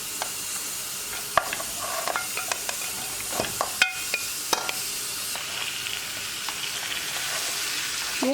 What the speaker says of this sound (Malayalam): ഈ ഹൈ ഫ്ലെയിമിലിട്ടതിന് ശേഷം ഇത് നന്നായിട്ടൊന്ന് ഫ്രൈ ചെയ്തെടുക്കുക